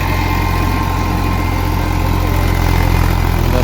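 A tractor engine runs steadily and loudly with a continuous low throbbing drone while a rotavator works through a papaya field. No voices are heard.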